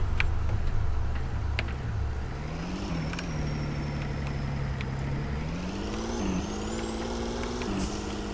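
A pickup truck drives off-road through rough terrain in the video game American Plains Mudding, its engine a loud, steady drone that climbs and falls in pitch as it strains over the ground, with a thin high whine above.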